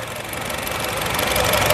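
A 2015 Honda Mobilio RS with a 1500cc engine, idling in a steady, close mechanical hum with a faint ticking texture and no talking over it.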